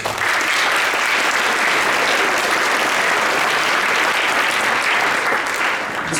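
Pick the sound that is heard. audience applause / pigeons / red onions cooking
audience applause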